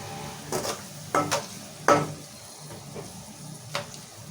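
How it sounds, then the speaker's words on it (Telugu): Salted onions fry in a wide pan for okra curry, giving a steady soft sizzle broken by several louder scraping stirs of a spoon against the pan. "సో ఇప్పుడు ఉల్లిపాయలు బాగా వేయించుకుందాము."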